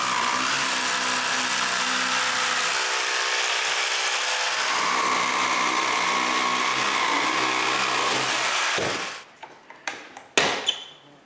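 A power tool cuts small wood pieces for coat hooks, a loud continuous whine for about nine seconds that then stops, followed by a few scattered clunks and handling noises.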